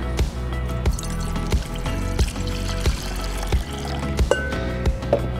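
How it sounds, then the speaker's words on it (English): Water pours steadily into a bowl at close range, a continuous gurgling fill with small splashy accents throughout. "he begins to pour water"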